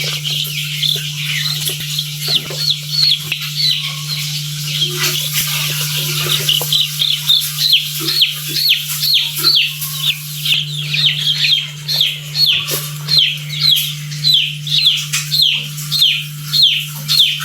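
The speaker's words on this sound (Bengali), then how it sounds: "আজকে বগুড়া শিবগঞ্জে 5 পিস ব্রাহ্মা মুরগির বাচ্চা যাচ্ছে।" Five Brahma chicken chicks peep and chirp continuously in a close, busy chorus of rapid high calls over a steady low hum, with no talking.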